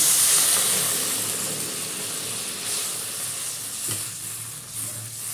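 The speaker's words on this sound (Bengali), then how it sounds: "এবার আমি এটার মধ্যে জল দিয়ে দিচ্ছি" Water poured into a frying tomato, onion and spice paste for a small-fish curry sets off a loud, steady hiss and sizzle that eases slightly as it settles, with no voices.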